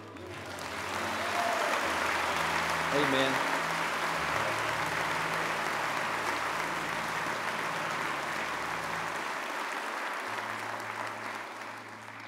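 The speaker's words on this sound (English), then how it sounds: "I really think that the Lord deserves a great applause." A church congregation at Central Church applauds for a long stretch, a dense, steady roar of clapping that builds quickly, holds, then tapers, with a brief spoken word near the start.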